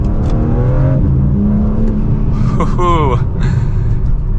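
A 2025 BMW M4 in M2 mode, set up with Sport Plus settings, accelerates with a loud, close engine note that climbs in pitch during a short pull, then settles back into a steady rumble.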